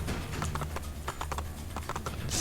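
Horse hooves clip-clop in a rapid, steady rhythm in Assassin's Creed 2, each hoof strike distinct and close, galloping over a low ambient rumble.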